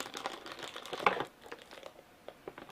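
Crinkling plastic and paper packaging being torn open on Mario Pikachu crossover merchandise from Japan, with a loud burst of crumpling near the middle followed by quieter rustling and handling; close up, no talking.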